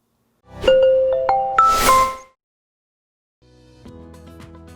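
A bright notification chime rings out as a quick rising run of bell tones with a shimmering swell, then goes silent before a softer sustained musical tone enters near the end.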